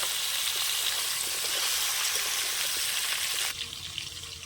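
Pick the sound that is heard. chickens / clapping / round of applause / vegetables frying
vegetables frying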